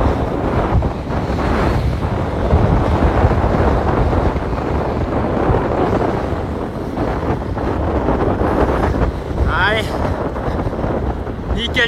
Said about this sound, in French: Beaucoup de vent par contre